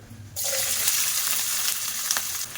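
Onions hitting hot oil in a pan for capsicum egg masala curry, a sudden loud sizzle that starts after a short quiet moment and then holds as a steady, close frying hiss.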